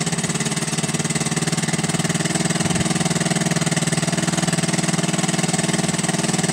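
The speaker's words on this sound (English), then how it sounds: "Allow the engine to warm up fully, and after a few seconds of running," A Honda outboard engine on a dinghy idles steadily while warming up, with no propeller turning; the close, even running continues unbroken throughout.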